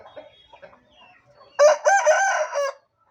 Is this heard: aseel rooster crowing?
yes